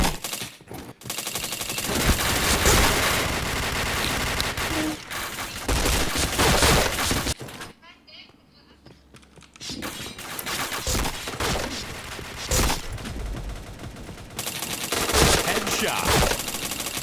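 Rapid bursts of automatic gunfire from a shooting video game, loud and dense, with a brief quiet gap midway before the firing resumes.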